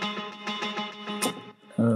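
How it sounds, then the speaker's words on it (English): An unfiltered guitar stem from a chill house track, distorted and effected electric guitar, plays a repeating riff of plucked notes, a bright swell near the end, then a sustained chord that rings out. "Without the filter, the guitar from the stem sounds like this"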